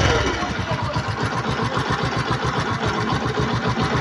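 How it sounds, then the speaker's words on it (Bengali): Engine of a 2022 Bajaj Discover 125 cc motorcycle idling with no throttle, a steady close pulsing putter that holds evenly throughout. "ফ্রি অ্যাক্সেলেটারের ইঞ্জিনের সাউন্ড"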